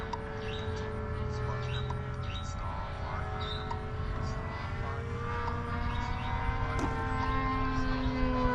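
A remote control model airplane drones steadily overhead at an airfield, its engine tone holding nearly level throughout the clip. Birds chirp faintly in the background.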